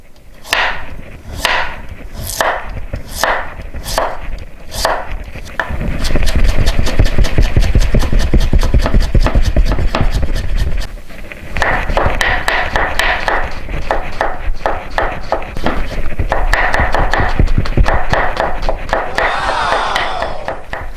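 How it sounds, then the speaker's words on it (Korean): A knife julienning carrots on a cutting board: a few slow, separate strokes, then a long run of fast, even chopping. "당근도 곱게 무처럼 곱게 채 썰어 주시면 돼요"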